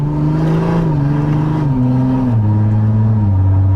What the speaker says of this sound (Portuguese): Olha só a troca de marcha aqui rápida.